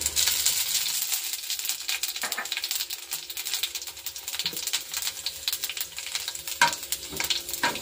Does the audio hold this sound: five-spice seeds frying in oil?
yes